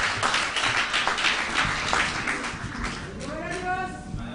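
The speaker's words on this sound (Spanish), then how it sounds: "aplauso al Señor, aleluya." Church congregation clapping and praising during a worship service at an annual retreat in Bonaire, dense steady applause mixed with loud voices and cheering throughout.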